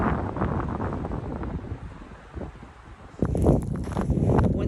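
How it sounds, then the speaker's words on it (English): Wind gusting at Bear Lake, a high mountain lake at 9,475 feet in Colorado in winter, buffeting the microphone with a steady roar that swells louder near the end. "It's always windy at Bear Lake."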